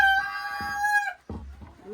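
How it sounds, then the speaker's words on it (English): A rooster crows once, close and loud, in a long sustained harmonic call lasting about a second, followed by lower clucking fowl noises nearby. "Rooster, stop making noise, mister."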